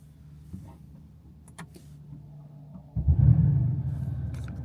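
A Porsche 991.1 GT3 RS fitted with an iPE exhaust fires up without a starter motor: a quiet idle hum with faint clicks, then an abrupt loud rumbling catch and steady low engine roar close by.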